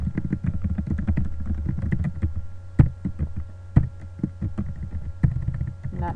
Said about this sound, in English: I'm not doing a good job of typing today.